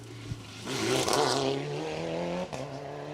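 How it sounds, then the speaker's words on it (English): A rally car speeds along an asphalt stage at the Manx National Rally, its engine note rising as it approaches, peaking loudly as it passes close by, then fading with a brief gear-change blip. "This is the car I love to see out."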